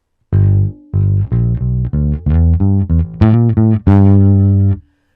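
An electric bass plays a blues fill that blends major and minor pentatonic notes, a loud run of distinct plucked notes that ends on a long held tone.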